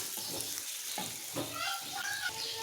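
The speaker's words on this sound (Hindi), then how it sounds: "ऑयल के गर्म होने पर आपने इसमें प्याज काट के डाल देने हैं और इसको हल्का सा आपने सोते से करना है" Chopped onions frying in hot oil in a pan, a faint continuous sizzle with light stirring scrapes and small clinks, no talking.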